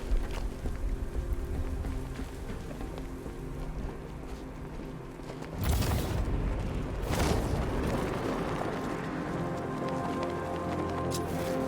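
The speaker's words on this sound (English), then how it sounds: "Be careful, the Bat's got a cannon on his car." Batmobile cannon in Batman: Arkham Knight firing and blowing up, with heavy booming blasts and rumbling debris over a dense game soundscape, two strong bursts standing out midway.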